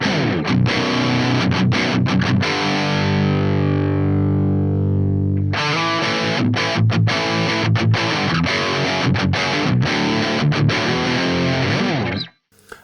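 Heavily distorted electric guitar riffing through an amp's Ultra channel lead 1 with every knob at noon, loud and dense, with a held chord ringing out mid-way before choppy palm-muted chugs resume, then an abrupt stop.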